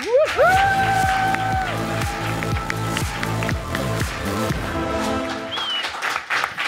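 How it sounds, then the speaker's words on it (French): A studio audience breaks into loud, sustained applause and cheering for an arriving guest on a talk show set, with a strong musical jingle playing over the clapping throughout. "Un tonnerre d'applaudissements pour Charles Villa."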